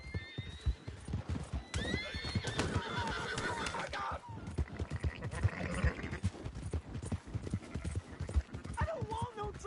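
Horse in Red Dead Redemption 2 whinnying several times with clip-clopping hooves, amid shouting voices and other game sounds close by.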